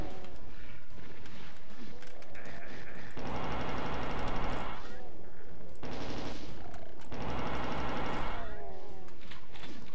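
Rapid automatic gunfire from chaingunner enemies in Doom 2 comes in two long loud bursts, separated by gaps of other game noise and effects.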